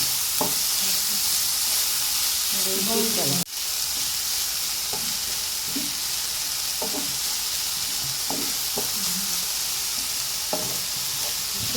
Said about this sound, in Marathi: मातशें फ्राय करता 2 मिनटां